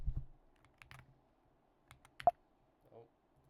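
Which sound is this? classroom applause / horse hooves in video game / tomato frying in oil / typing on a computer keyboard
typing on a computer keyboard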